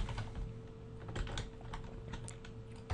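Java code is typed on a computer keyboard in a rapid, uneven patter of soft key clicks over a constant electrical hum, with no voices.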